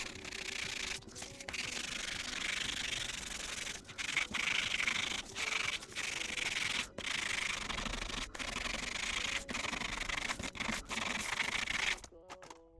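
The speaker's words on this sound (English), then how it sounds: "So I'm going to do a bit more sanding now and try and blend those in a bit more." Sandpaper rubs in a continuous, close scratchy rasp against a 3D printed Porsche bonnet, blending imperfections on the surface. The strokes are steady with brief pauses between passes, and the sound ends abruptly near the close.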